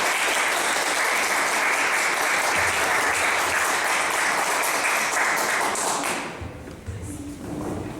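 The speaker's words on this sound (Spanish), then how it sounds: "les pido un aplauso para nuestros tres ponentes" Loud, sustained audience applause greets three speakers at a book presentation, holding steady for about six seconds before thinning out into scattered claps and room noise.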